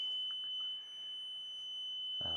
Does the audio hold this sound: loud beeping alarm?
yes